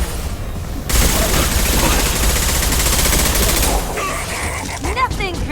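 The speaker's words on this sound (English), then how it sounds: "Taking fire!" Sustained automatic gunfire from the Mass Effect 2 video game, a dense fusillade of rapid shots lasting about three seconds at close range, then fading into quieter game sounds and a brief voice.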